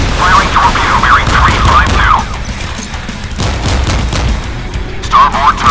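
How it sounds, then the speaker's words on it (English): A warship launches a missile in the naval game Modern Warships, heard as loud booming blasts and rumbling bursts amid siren-like warbling alarm tones, with game voice callouts over the mix. "Missile away. 10 seconds to impact."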